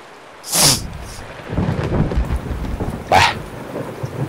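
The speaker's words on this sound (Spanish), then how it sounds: "Tanta tormenta no lo había visto yo" Heavy rain pours steadily in the Escape from Tarkov Shoreline map while two loud thunderclaps crack and rumble, one near the start and another toward the end, over a continuous low storm roar.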